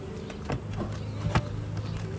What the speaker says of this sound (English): let any bees that are left get out